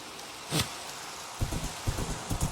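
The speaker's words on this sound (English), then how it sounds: "Oh, it's raining again." Rain falls in the Minecraft video game, a soft steady patter under scattered louder low thuds and taps spread across the clip.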